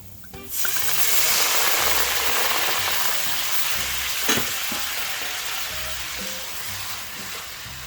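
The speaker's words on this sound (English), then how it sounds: "you're going to deglaze with some Savugnon Blanc" Pan deglazed with Sauvignon Blanc while making a creamy chicken tomato sauce: a sharp burst of sizzling hiss erupts, then settles into a steady, close frying crackle with a brief clink midway.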